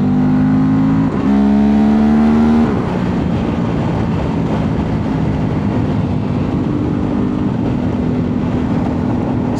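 A Honda Transalp motorcycle pulls hard in third gear, its engine note climbing loud and close, then easing into a rougher steady drone with road and wind rush.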